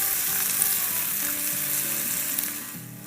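Diced onions sizzling steadily in a hot pan as they sauté, a continuous close frying hiss with no talking.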